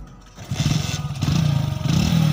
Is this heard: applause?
no